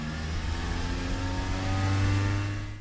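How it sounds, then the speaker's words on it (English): Taxi car engine driving off as a storybook sound effect, a steady close motor hum that swells as it revs and pulls away, heard alone. "So Squirrel jumped into a taxi"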